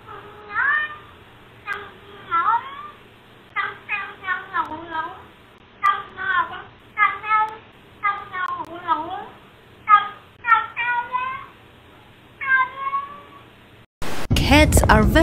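A cat named George Rufus meows in a long series of short, tuneful, pitch-sliding calls, like singing, close and clear, before an abrupt cut into a different loud noise at the end.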